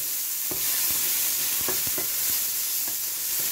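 Champignon mushrooms frying in sesame oil for Chinese-style fried noodles, a constant close hiss with a few knocks and scrapes of stirring scattered through it.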